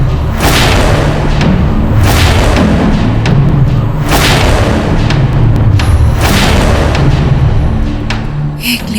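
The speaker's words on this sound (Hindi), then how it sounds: "मुगलों ने तोप क्यों चलाई और किस पे?" Cannon fire from a Mughal army on a historical battlefield booms repeatedly, four heavy blasts at roughly two-second intervals, loud and close over a continuous roaring din.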